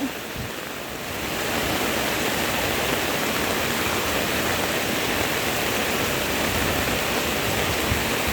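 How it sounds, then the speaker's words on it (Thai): Heavy rain pours without pause, continuing for a third day, alongside rushing floodwater on a low-lying street outside a house in Thailand, forming a dense, steady roar throughout. "ฝนตกฝนตก"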